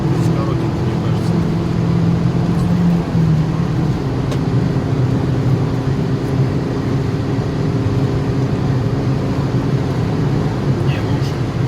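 Inside a chipped Tagaz Vega C100 cruising at about 140 km/h, a steady loud drone of engine and road noise fills the cabin without letup.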